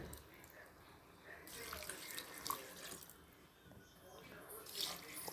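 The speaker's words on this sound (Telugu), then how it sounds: "దానికి 6 గ్లాసుల వాటర్ పోసుకోవాలి" Water is poured onto amaranth leaves and four glasses of rice in a pot, making a faint, splashy trickle that swells and fades in short bursts.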